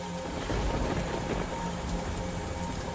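Steady, dense rain pours down without a break, a loud close wash of drops on surfaces that holds an even level throughout with no voices.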